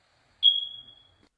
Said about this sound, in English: It sounds like a smoke detector.